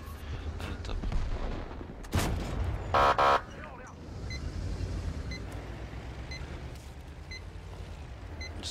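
Tank cannon shots in the video game World of Tanks, with a sharp loud blast, a rapid burst of metallic repeated reports and scattered distant booms over a low rumbling battle ambience.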